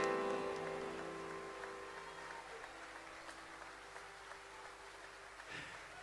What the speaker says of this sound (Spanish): aplausos para mi querido amigo Peñi